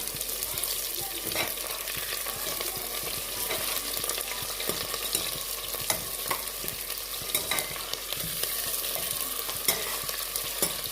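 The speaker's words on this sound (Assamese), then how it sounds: "তেল দি দিয়াৰ পিছত এইটো মই মছলাখিনি দি" Spices fry in hot oil with sugar in a pan while goat meat curry is being prepared, giving a steady crackling sizzle throughout, with frequent close spoon clicks and scrapes from stirring and no voices.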